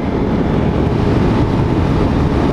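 A 2015 Suzuki GSX-R 1000 motorcycle is ridden in its C power mode, giving a loud, continuous engine roar and rushing wind noise heard close up with no let-up.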